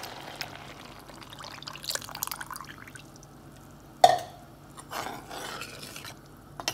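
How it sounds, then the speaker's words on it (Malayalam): Buttermilk pours into a thickened, spiced yam curry cooking in a pot, a soft liquid trickle with small splashes and a sharp clink near the middle, close and fairly quiet. "മോരൊഴിച്ച് കൊടുക്കുക"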